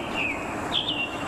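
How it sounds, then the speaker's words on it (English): Birds sing in a peaceful cemetery, a few thin high chirps over a steady rushing background of wind through trees, with no voices. "To hear the wind going through the trees, to hear the birds."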